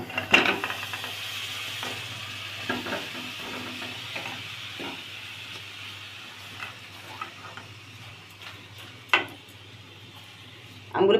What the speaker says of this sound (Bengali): এখন আমগুলি প্যানে দিয়ে দিই